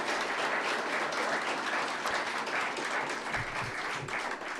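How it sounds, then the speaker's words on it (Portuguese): A crowd at a gathering gives a dense, sustained round of applause, loud and even throughout with no pause, the clapping blurred into a continuous wash. "uma salva de palmas"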